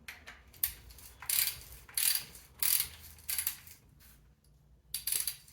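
A socket wrench loosens a bolt on a Jawa 350 motorcycle, giving bursts of quick ratcheting clicks in short repeated strokes with brief pauses between, close and fairly crisp.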